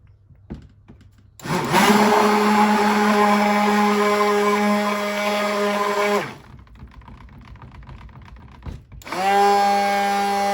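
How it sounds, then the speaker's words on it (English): A stick blender runs in two bursts, a long stretch of loud whirring motor whine that spins down, then a pause with small clatter before it starts up again. "Clean the stick blender so that I don't add the white to the red,"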